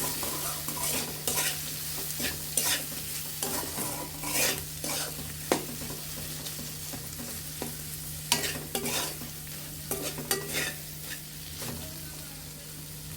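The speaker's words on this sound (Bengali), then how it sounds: "এখন ভালোভাবে কষিয়ে নিতে হবে আমাদের মাছগুলো এবং মশলাগুলো" Fish and spices sautéed in a pan, a spatula scraping and knocking in irregular strokes over a steady sizzle with a low background hum, close and moderately loud, no one speaking.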